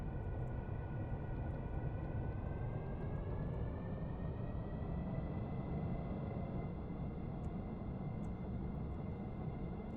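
A VTOL cargo jet taxis in the video game Stormworks, its engine a steady low rumble with a slowly rising whine, continuous and fairly faint.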